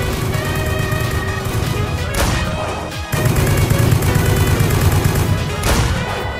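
Star Platinum's rapid punch barrage in a JoJo video game, a loud, continuous rattle of fast impacts with a brief dip and swell of whooshing effects partway through, no voices.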